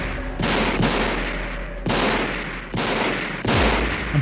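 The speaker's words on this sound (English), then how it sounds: "firing 6 shots" Movie-style gunshot effects come as heavy, booming blasts, about four clear reports in quick succession. Each is loud and sustained.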